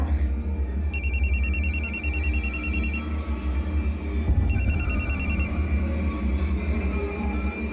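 A telephone rings in two bursts of rapid electronic trilling, the first about two seconds long and the second shorter, over a loud low rumbling background.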